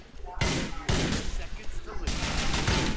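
Bursts of automatic gunfire in Grand Theft Auto IV, dense and loud in two long volleys separated by a short lull, with someone talking over the shooting.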